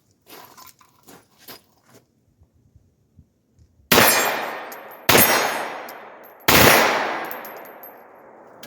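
A pistol fitted with a tennis ball brace is bump fired, sending three loud, sharp gunshots roughly a second apart, each with a long ringing outdoor decay, after a stretch of quiet clicks and handling noises.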